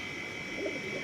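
Teddy pigeons cooing briefly, a soft low murmuring coo heard close over a steady high background hiss.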